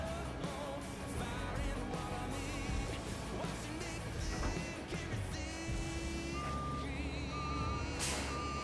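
Hemi-engined pickup truck in Farming Simulator 25 running steadily amid in-game vehicle noise, with reversing beeps and a hiss like air brakes layered over the engine drone.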